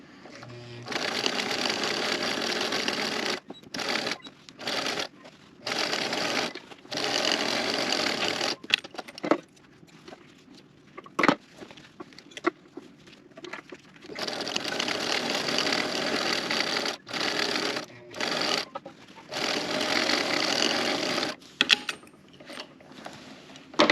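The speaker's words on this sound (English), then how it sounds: "we're going to go ahead and sew our ears closed." A sewing machine runs in loud, close bursts, seaming fabric bunny ears closed, its fast whirring stitch broken by short pauses and stops between runs.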